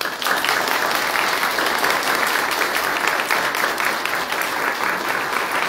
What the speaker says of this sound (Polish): proszę o wielkie brawa dla nich